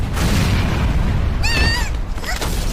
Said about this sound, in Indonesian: tiba-tiba mobil yang ditumpangi Sarina pun meledak